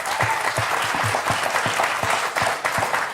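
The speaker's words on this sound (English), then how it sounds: "So give yourselves a round of applause." A Comic-Con 2016 panel audience breaks into steady, dense applause, many hands clapping together at close range throughout.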